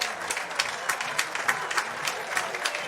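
Soccer stadium crowd applauding a substituted player at a conference championship match, steady clapping with scattered louder bursts, distant and diffuse, no talk over it.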